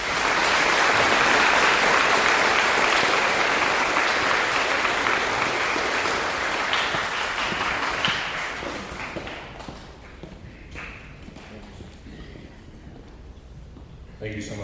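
Loud, sustained applause from an audience at a school Veterans Day assembly, filling the room for several seconds and then fading into scattered claps and quieter room noise.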